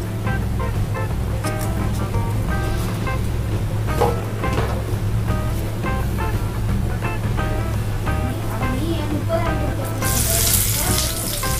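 Whole spices, Sri Lankan and Indian seed spices, sizzle steadily as they heat in hot oil, a loud, continuous crackling fry with occasional stirring clatter and a brighter hiss near the end.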